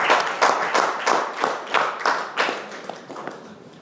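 A small group claps at a meeting as a speaker is called to the podium, in a loose, uneven rhythm, the applause fairly close and fading slightly toward the end.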